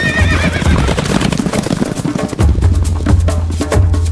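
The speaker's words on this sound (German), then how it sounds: "Also wir wissen, ein Pferd kommt." A horse whinnies loudly and close, with clip-clop hoofbeats of a gallop continuing alongside, all alone with no talk.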